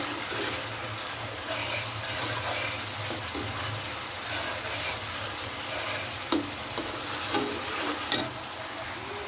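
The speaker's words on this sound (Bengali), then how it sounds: "মশলাটা সুন্দর করে আপনারা কষিয়ে নেবেন।" Spice paste thinned with a little water sautéing in a pan for a fish curry, giving a soft, steady bubbling sizzle with a few brief scraping stirs and clinks near the end; no voices.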